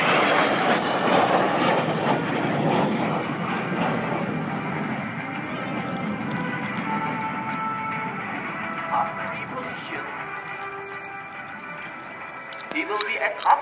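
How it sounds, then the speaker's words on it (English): An aerobatic airplane flies at an airshow, its engine a broad, sustained roar that slowly fades and shifts. Someone talks steadily over it. "The plane starts to move to that side."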